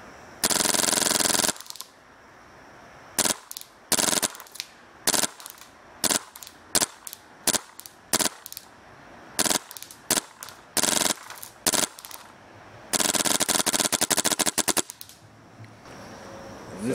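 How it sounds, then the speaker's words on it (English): Dangerous Power E1 paintball marker firing in fully automatic mode: loud, close bursts of rapid shots in repeated strings, a long burst at the start and another near the end, with short single volleys and silent gaps between. "Now, here's fully automatic. This is what I love about this gun."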